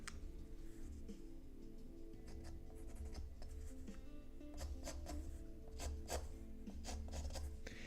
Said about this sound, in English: Give you guys some ASMR with the scratchy scratches.